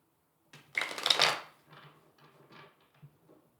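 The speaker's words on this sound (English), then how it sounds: "I'm just going to shuffle a couple more times" Tarot cards are riffled in a crisp burst, followed by several softer, shorter shuffles at an even pace, close up and with no voices.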